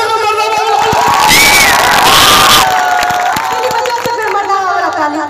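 A comedy show audience cheers and shouts, with children's voices rising in a loud burst over scattered clapping and talk before settling.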